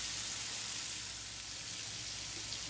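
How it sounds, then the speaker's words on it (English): Cubed steak browns in a frying pan with a constant, fairly faint sizzle and fine crackle, steady throughout with no voices. "we're just going to lightly brown it on both sides"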